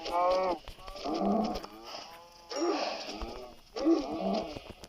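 Cows mooing in Minecraft Pocket Edition survival mode, several long drawn-out bovine moos in sequence, loud and close with brief gaps between them.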